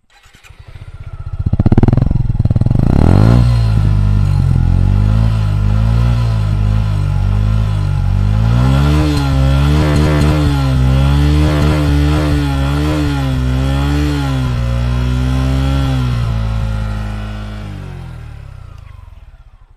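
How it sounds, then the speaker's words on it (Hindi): A Suzuki Gixxer SF sport motorcycle engine starts, then idles and revs loudly up close, the pitch rising and falling before it settles and cuts off. "स्टैंड लेके फिर इसका साउंड सुनवाते हैं आपको"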